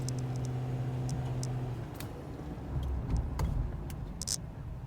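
A 2011 Ford Crown Victoria driving on the road, a steady low engine and road rumble from inside the cabin with occasional small ticks and rattles.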